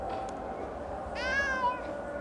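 A cat in the RuneScape game gives a single drawn-out meow in the middle, fairly quiet over a soft ambient game background.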